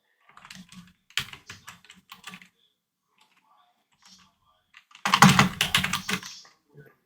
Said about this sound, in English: I keep typing the list out of habit.